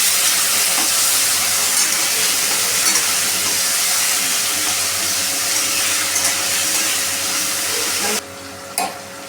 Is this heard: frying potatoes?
yes